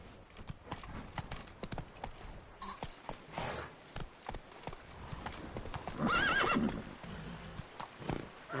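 Roach the horse in The Witcher gallops with rapid rhythmic hoof clip-clops, breaking into a loud whinny midway before the hoofbeats carry on.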